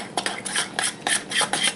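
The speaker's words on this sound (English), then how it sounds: "And we're just going to give this a good mix." A spoon scrapes and clinks around a bowl while macaroni salad sauce is mixed, in quick repeated strokes, close and fairly loud, with no talking.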